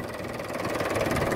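A 30-year-old tractor loaded with about 90 quintals of soil idles at a steady, even rumble. The engine note stays close and constant throughout, with no voices.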